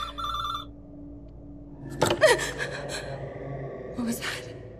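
A telephone ringing in the asylum horror game Scholar's Mate, a short electronic ring burst at the start, then a gasp and scattered noises while a voice speaks.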